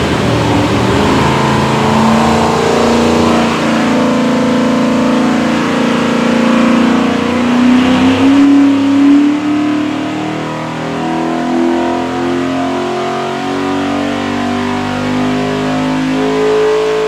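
A Borla stack-injected 427 small block Ford engine on a dyno pulls through a long, loud run, its roar rising steadily in pitch for most of the pull and easing off near the end, with no talking.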